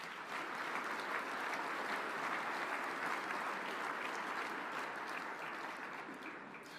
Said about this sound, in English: A hearty round of applause for them